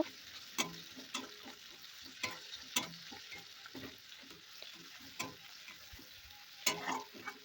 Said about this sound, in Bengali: এবার এর মধ্যে দিয়ে দেবো থেতো করে রাখা রসুন আর টমেটো কুচি, দিয়ে ভালোভাবে আরেকটু ভাজা ভাজা করে নেব